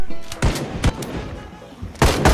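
Gunshots in Project Zomboid crack out in a quick irregular series of about four sharp, loud bangs, close and punchy with short reverberant tails.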